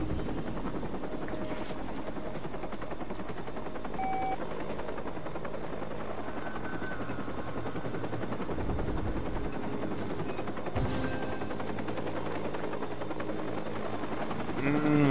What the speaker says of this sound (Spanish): Hay que tener cuidado con el helicóptero